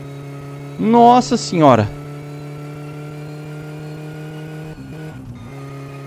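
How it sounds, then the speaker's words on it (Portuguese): The Satsuma car engine in the My Summer Car video game holds a steady, high-revving drone at speed, while a man briefly exclaims near the start. "Quando o giro tá lá em cima, o Satsuma cresce muito rápido."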